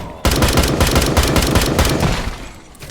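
Rapid gunfire from the Dysterra survival shooter, a dense burst of loud, close shots fired in quick succession for about two seconds before trailing off.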